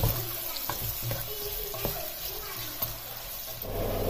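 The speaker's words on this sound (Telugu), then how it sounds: "ఇవి బ్రౌన్ కలర్లో వచ్చే వరకు మనము ఫ్రై చేసుకోవాలి." Onions frying in a pot for kabuli pulao make a continuous low sizzle and bubbling, with occasional scraping knocks from stirring, close and moderately loud.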